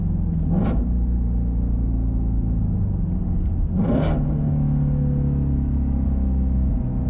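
Engine of a Ford Shelby GT350R sports car, a loud, close, steady rumble with two sharp throttle blips standing out, one near the start and one midway, and no one talking.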